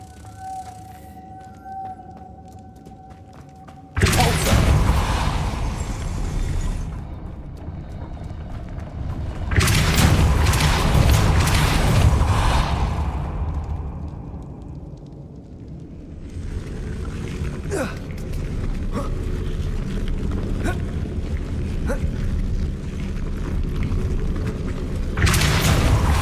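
Depulso force spell cast in Hogwarts Legacy, heard as sudden loud booming blasts with rumbling tails, three separate bursts between quieter stretches of low ambient game sound.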